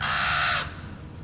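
A single crow-like bird caw rings out for about half a second in a scene from The Shawshank Redemption, then fades into a low background hum.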